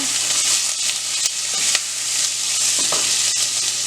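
Cashews and coriander powder sizzle in a hot pan for paneer butter masala, a constant bright frying hiss broken by a few stirring scrapes and taps, close and loud with no talking.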